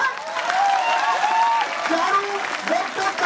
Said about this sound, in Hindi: एक बार हाथ उठा के सब तालियां बजाएं।